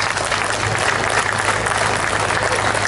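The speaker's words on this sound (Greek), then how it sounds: "Ένα μεγάλο χειροκρότημα." Sustained, dense applause from an audience at a dance festival, loud and continuous with no pauses.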